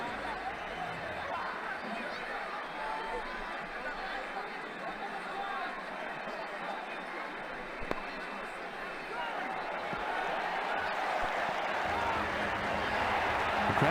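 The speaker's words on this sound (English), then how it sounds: "The crowd are giving him a warm round of applause." Cricket crowd at an India versus England match applauding a well-struck shot, a steady wash of clapping and murmur from a large stadium audience that holds throughout and swells slightly toward the end.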